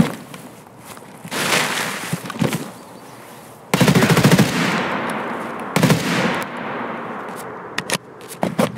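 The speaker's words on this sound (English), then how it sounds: "Oh, was that you firing?" Automatic gunfire in the video game Escape from Tarkov crackles in loud bursts, some close and sharp, others more distant, with short gaps of footsteps and movement between them.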